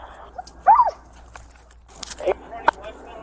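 A police dog barks a few times in the distance during a large police operation to arrest a suspect, with short sharp yelps standing out over a faint outdoor background.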